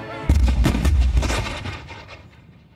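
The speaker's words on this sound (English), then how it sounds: "the British warship, the HMS Leopard, unloaded cannon fire on the USS Chesapeake" Cannon fire from the British warship HMS Leopard at USS Chesapeake in 1807 comes as a rapid series of heavy booming shots that roll together, loud and close, then fade into a rumbling tail.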